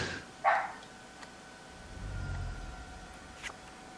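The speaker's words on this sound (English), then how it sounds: "Yeah, the dog's barking." A dog gives a single short bark early on, fairly faint and somewhat distant, followed by quiet room noise and a soft low rumble.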